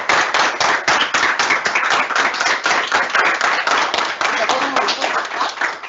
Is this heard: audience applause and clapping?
yes